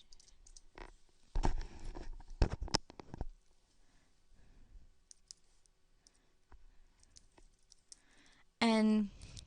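Fast bursts of key clicks on a computer keyboard as a Georgia Southern email address is typed in, clustered near the start, with a brief tonal blip at the end and light background noise between.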